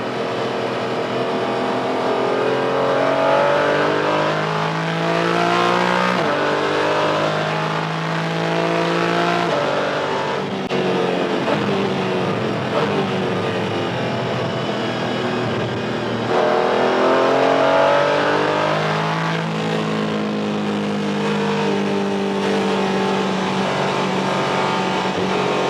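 A Porsche 718 Cayman GT4 at full race pace on a track, its engine loud and close, revving up and down through gear changes and braking into corners without pause.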